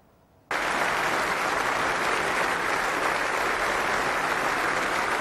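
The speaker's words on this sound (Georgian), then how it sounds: "ევროპარლამენტარებმა უკრაინის პირველი ლედის მიმართ სოლიდარობა და მხარდაჭერა ფეხზე წამოდგომითა და აპლოდისმენტებით გამოხატეს." European Parliament members in Strasbourg give Ukraine's first lady a standing ovation: after a brief quiet moment, thunderous applause erupts abruptly and holds at an even, dense roar to the end.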